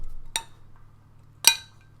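Drinking glasses clink together in a toast among friends, two short bright chinks about a second apart, close and clear over a quiet room hum.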